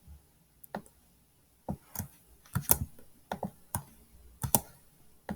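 Computer keyboard keys tapped for cut-and-paste shortcuts, a faint, close, irregular series of soft clicks and taps with short pauses between presses.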